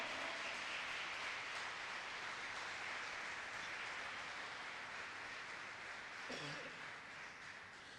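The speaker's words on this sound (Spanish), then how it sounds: "Dale un aplauso bien fuerte al Señor." A church congregation applauds during a worship service, a dense and sustained wash of many hands clapping together. It sounds somewhat distant and holds steady before easing slightly at the end.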